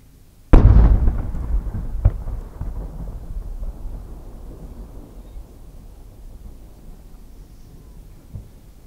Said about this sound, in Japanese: 今回打ち上げる玉は千住菊。